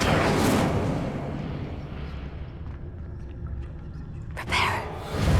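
Incendio fire spell cast in Hogwarts Legacy, a loud whooshing burst that fades into a low roaring rumble, then a second sharp flare near the end.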